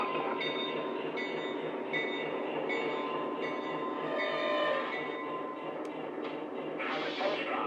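A Lionel model B&O and C&O passenger train rolls along and slows toward a stop, its steady metallic running clatter close and continuous with faint squeals, and a voice briefly audible beneath it.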